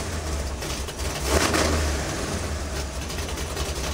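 A supercharged 350 small block V8 runs with a deep, throbbing low rumble, swelling briefly as the throttle lifts it near the middle before settling back to a steady, close idle; no talking.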